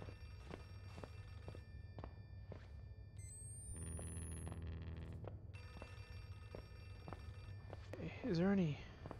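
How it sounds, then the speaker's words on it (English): A telephone rings inside the horror video game Outlast 2, repeated bursts of ringing in a quiet, eerie game space, with soft footsteps and thuds between rings and someone talking over the scene. "Is that a phone? Yeah, I heard it a long time ago"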